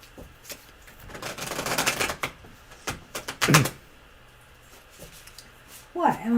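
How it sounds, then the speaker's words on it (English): Tarot cards shuffled by hand in quick riffling bursts and soft slaps, close and fairly quiet, with a voice speaking briefly near the end. "Am I shuffling too loud?"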